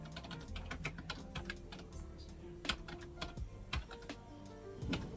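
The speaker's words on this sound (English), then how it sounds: "So let's type in Merry Christmas." Fingers tap out a run of keystrokes on a computer keyboard, quick irregular clicks close by with brief pauses between bursts, over a faint low background hum.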